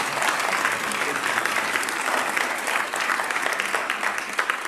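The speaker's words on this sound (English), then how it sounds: "if you can just give a round of applause for my boss sitting right here" An audience at a nonprofit-sector gathering in Westchester gives a steady, dense round of applause that holds at an even, fairly loud level throughout, with no voices standing out.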